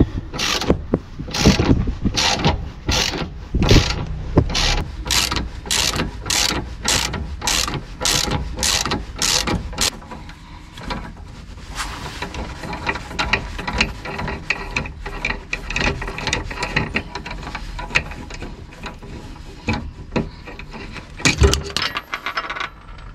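Rapid metallic ratcheting clicks repeat in quick bursts, followed by looser mechanical rattling and scraping of a tool unscrewing a rear shock absorber bolt on a Renault Kangoo, close and fairly loud.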